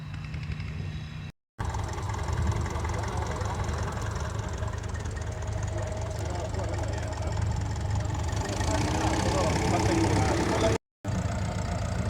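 A T20 diesel tractor engine runs steadily at a ploughing match in good ground conditions, a loud continuous rumble with a knocking edge heard from close by, briefly cut off twice.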